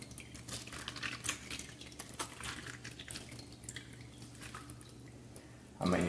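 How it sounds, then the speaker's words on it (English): Juice from freshly crushed grapes drips and trickles in soft, irregular splashes at close range, ending in a brief louder burst of liquid. "Get all that nice juice out."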